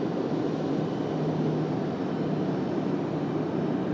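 A UPS Airbus A300 jet sits at pushback at Raleigh-Durham International, its engines giving a steady, loud broadband roar with a faint low hum underneath, unbroken and without voices.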